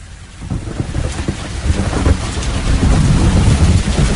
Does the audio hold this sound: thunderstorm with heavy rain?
yes